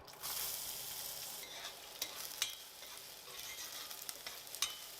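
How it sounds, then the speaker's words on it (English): Chopped onion sautéing in oil in a pot gives a soft, steady sizzle, quiet and close, with light stirring scrapes and occasional louder crackles. "to a pot with some oil, I add the onion and sauté this until it's translucent"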